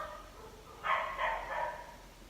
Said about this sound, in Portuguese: É, o cachorro da vizinha aqui.